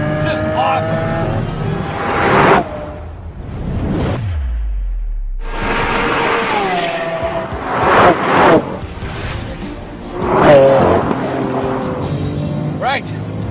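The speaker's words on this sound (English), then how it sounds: "here I am, flying over turn 6, Big Willow, and the Lamborghini Super Veloce" A Lamborghini Aventador SV screams at speed over turn 6 of Big Willow on a race track, its engine note rising and falling through shifts, loud and close under continuous talk.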